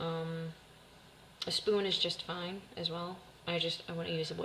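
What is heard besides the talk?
No everyday noise stands out behind the speech.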